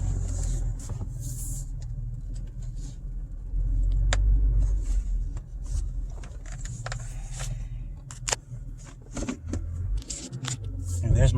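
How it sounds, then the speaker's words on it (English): A Toyota Tacoma pickup idles and creeps in reverse into a driveway, a steady low engine rumble with a brief swell of revs, with small clicks and rattles on top and someone talking over it. "So I'll back the Tacoma up in the driveway"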